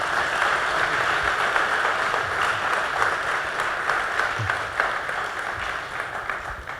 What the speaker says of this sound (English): So please, a big round of applause for Sergeant Lynch.